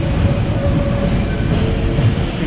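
A London Underground train rolls steadily through a tunnel, a loud continuous rumble with low wheel noise and a faint high whine, no voices over it.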